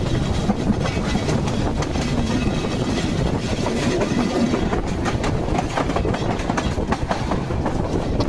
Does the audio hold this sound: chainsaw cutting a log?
no